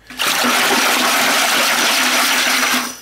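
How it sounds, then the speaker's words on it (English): A caterer's stainless steel whisk stirs liquid pottery glaze in a bucket, giving a continuous close, wet sloshing and swishing that runs steadily for about three seconds with no speech. "I use a simple caterer's stainless steel whisk"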